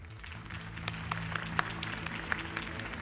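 Distant crowd applause in the video game Batman: The Telltale Series rumbles softly beneath a low background hum, with a few sharper claps standing out.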